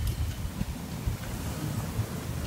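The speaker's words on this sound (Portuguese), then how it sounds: "Temos um pouco de vento hoje." Wind rumbles and gusts against the microphone outdoors beside a wild blackberry bush, a low, uneven, buffeting roar that swells and dips throughout without any speech.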